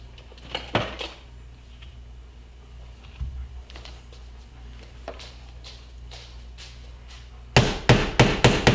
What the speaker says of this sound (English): So I'm going to get a hammer and tap it gently.